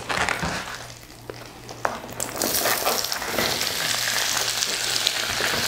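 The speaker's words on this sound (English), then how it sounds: "Oh, I love the sound when that hits that hot oil." Vegetables for calabacitas hitting hot butter and oil in a pan, a loud close sizzle that swells after a couple of seconds into a steady, dense crackling fry.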